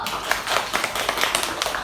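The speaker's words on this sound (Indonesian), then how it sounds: "Boleh tepuk tangan dulu." Students clap together in a classroom during a practice lesson, a brief patter of many hands at close range with rapid overlapping claps and no speech.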